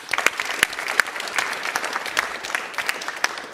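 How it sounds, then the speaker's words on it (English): A lecture audience claps steadily for a few seconds, a dense patter of hands with a few sharper individual claps standing out, fairly close and with no voices over it. "Again, an applause,"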